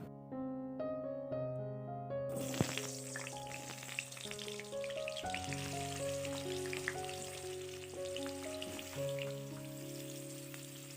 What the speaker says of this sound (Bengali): এবার কড়াইতে তেল দিয়ে সবজিগুলোকে ভেজে নেব। প্রথমে আলুটাকে ভেজে নেব।